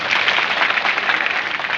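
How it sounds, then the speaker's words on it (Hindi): Steady applause from a crowd at a JAYS mahapanchayat rally in Barwani, a dense unbroken wash of clapping that holds at a constant loud level throughout with no speech over it. "इनके लिए जोरदार ताली बजाओ"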